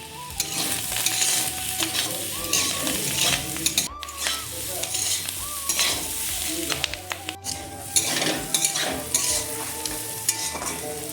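Cauliflower, potato and onion shoots fry in a pan with a continuous loud sizzle, broken by stirring scrapes and a couple of sharp clinks of a utensil against the pan.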